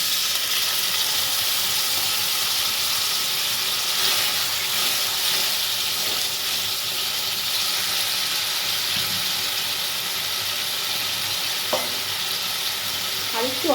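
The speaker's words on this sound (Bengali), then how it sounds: "সেই সেদ্ধ জলটা দিয়ে দেবো।" Water left from boiling raw jackfruit is poured into a hot pan of fried spice masala, producing a loud, steady, close sizzling hiss that continues unbroken, with faint stirring clinks near the end.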